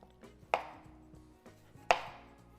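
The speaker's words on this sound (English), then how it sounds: "now we are going to cut our Roma tomato" A knife chops through a Roma tomato on a cutting board: two sharp, close thuds about a second and a half apart, with quiet board noise between.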